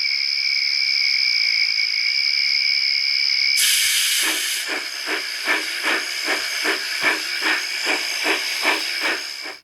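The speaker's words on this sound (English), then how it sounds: "Callum puffed into the station where Miguel was getting ready for his return trip to the mainland" An animated steam engine pulls into a station: a loud, steady steam hiss gives way to a burst of venting, then a run of rhythmic chuffs, about a dozen evenly spaced puffs as it slows.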